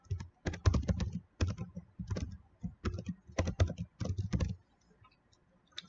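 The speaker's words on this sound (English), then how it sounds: "So I'll type this out again." Someone types on a computer keyboard in close, quick bursts of clicky keystrokes separated by short pauses. The typing trails off into quiet at the end.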